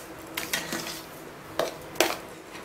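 A utensil stirs papaya kesari in a pan over low-medium heat, giving a few separate scrapes and clinks against the metal. The sounds are fairly quiet and close, with no talk.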